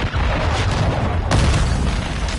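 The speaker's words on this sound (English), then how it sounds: "Friendly cruise missile deployed." Heavy booming cruise missile strike in a video game, a loud continuous rumbling blast with a sharper second impact partway through.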